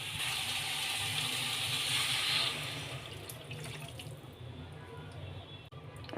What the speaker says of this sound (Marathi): आता आपण ह्याच्यामध्ये पाणी टाकून घेऊया।